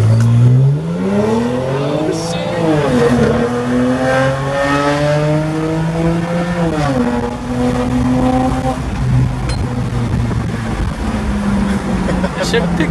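A BMW 335i making about 400 wheel horsepower accelerates hard on a test drive, its engine note climbing through repeated gear changes, with a brief stumble from bad injectors; people talk inside the car.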